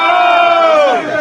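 A crowd at a political gathering the night before an entry into the Capitol shouts together in a loud, sustained roar of voices, close and continuous, with one pitched cry rising and falling above the mass.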